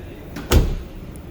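A car door on a Toyota JZX90 shuts with a single solid thud, close by, against a quiet background.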